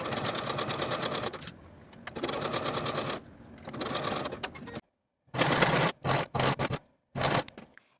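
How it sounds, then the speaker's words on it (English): Sewing machine stitching a narrow zigzag seam on a cardigan pocket, its motor whirring in several steady runs of a second or two, followed by short choppy bursts near the end, close and clear. "Using your narrow zigzag stitch and a 1/4 inch seam allowance, sew from the top of the pocket to the bottom."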